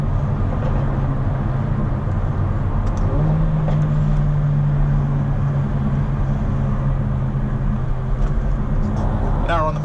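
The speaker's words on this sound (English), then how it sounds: "This is the most shouty 2-litre engine I've driven from Mercedes." A 2019 Mercedes A35 with a 2-litre engine drives under load, its engine and exhaust producing a loud, steady droning hum with a rising tone partway through, heard from inside the cabin.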